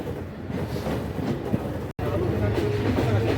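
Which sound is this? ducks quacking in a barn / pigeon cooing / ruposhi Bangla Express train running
ruposhi Bangla Express train running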